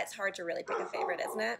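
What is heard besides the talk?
neighbors' dogs barking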